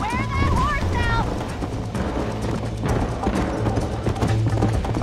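Horse hooves galloping in Red Dead Redemption, a steady clip-clop rhythm under wind and a rumbling mix as riders race along a trail, with a voice speaking over the hoofbeats.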